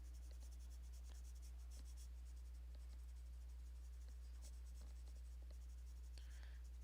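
A sepia coloured pencil shades floorboards and a baseboard in a drawing, giving a steady, soft scratchy stroking close up with faint clicks throughout, over a low constant hum.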